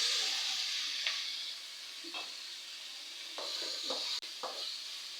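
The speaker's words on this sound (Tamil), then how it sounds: "அடுத்தது தக்காளி கட் பண்ணி வச்சுருக்கு இதில் சேர்த்திக்கலாம்" Chopped tomatoes go into a pan of frying ginger and garlic for a white chickpea curry, giving a steady soft sizzle with several brief stirring scrapes and clinks, fairly quiet and close, with no talk.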